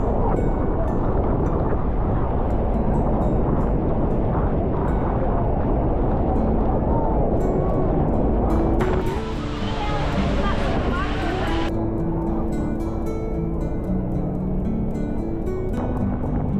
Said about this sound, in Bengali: ক্রুজ আমাদের একবারে নিয়ে এলো এই হর্সশু ফলসের কাছে।